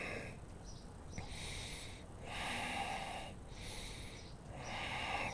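Deep rhythmic breathing during a yoga exercise, about three slow, loud, airy inhale-exhale cycles close to the microphone, with no talking.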